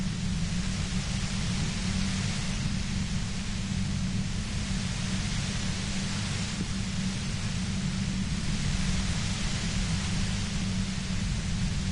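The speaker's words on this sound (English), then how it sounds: "You hear through the white noise. It's especially bad suddenly." Steady, dense white-noise static hiss fills the scene in the Disco Elysium video game, unbroken and even throughout with a low rumbling underlayer, no voices.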